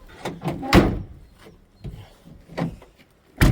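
A couple of solid thuds and clunks as a Renault Trafic van door is shut, with some rattling handling noises in between, recorded close up.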